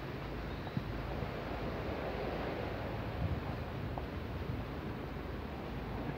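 Sea waves wash along the shore beside a waterfront path between Wah Fu Estate and Wah Kwai Park in Hong Kong: a steady, even roar of surf mixed with wind buffeting the microphone, with no voices.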